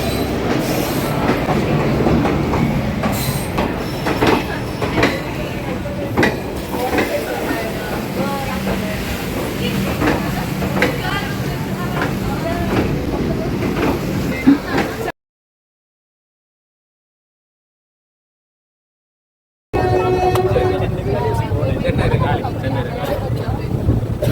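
A train rolls along on rails with a steady rumble and rhythmic clatter, broken by a few seconds of silence before the rumble returns.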